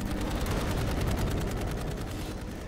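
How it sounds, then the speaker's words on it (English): Gunfire crackles in the Dark Void video game, rapid continuous bursts and blind fire from behind cover, dense and loud against a thick backdrop of battle noise. "You've got your guns, you're hitting cover, you're blind firing."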